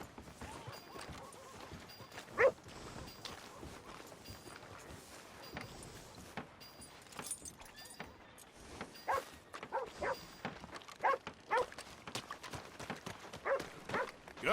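Horse hooves clip-clop in Red Dead Redemption 2 at a moderate level, with irregular knocks and a few sharper hits over a busy in-game background.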